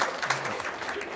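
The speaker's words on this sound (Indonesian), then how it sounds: "Tepuk tangan dong." A gathering claps briefly, a short burst of mixed hand claps with a hint of murmuring voices underneath.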